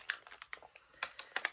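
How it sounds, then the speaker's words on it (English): Clear acrylic stamps peeled off their backing sheet for card making, giving a string of faint, soft crinkly crackles and sharp little ticks in short bursts, close by and with no talking. "you just peel these off the sheet"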